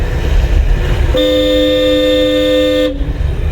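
A driving-school car's horn blares in one long, steady honk lasting close to two seconds, loud and near, over the low rumble of an engine.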